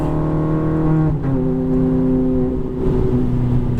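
A Ferrari F430 engine drones loud and close on a driving track, a steady harmonic roar that briefly dips and shifts pitch as throttle changes, with no talking.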